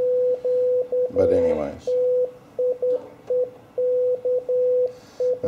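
Morse code CQ call keyed as a steady sidetone on an Elecraft KX3 ham radio, a clear mid-pitched series of short and long beeps in bursts throughout, with someone briefly speaking over it.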